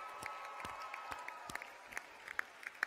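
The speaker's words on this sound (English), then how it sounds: "I'd like you to keep on applauding for all of your family and all of your friends that have helped you on your journey" Applause from a graduation ceremony audience, faint and distant, with scattered sharp claps and a few whoops poking out of a thin, steady wash of crowd noise.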